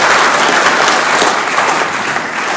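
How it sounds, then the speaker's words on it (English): Steady, dense applause from a crowd at a public meeting fills the whole stretch, loud and continuous without pause. "Thank you for the applause for the food."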